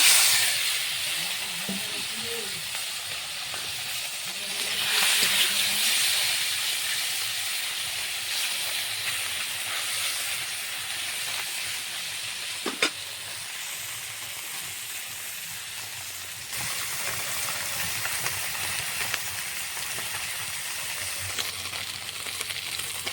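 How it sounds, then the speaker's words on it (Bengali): Small fish frying in hot oil, a broad, steady hiss that swells near the start and settles into a continuous sizzle, with one sharp metallic tick midway and no voices. "বাকি মাছ ভাজাগুলো ভেজে নেব।"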